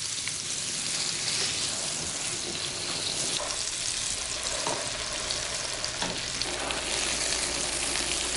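Leeks browning in a mix of oil and butter in a hot pan, a steady close crackling sizzle with occasional stirring clicks, no voices.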